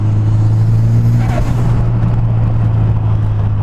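Mitsubishi Evo IX MR with a 6-speed transmission, engine held steady around 3,000 rpm in fourth gear on light throttle; a loud, constant low drone with road noise throughout, no talking.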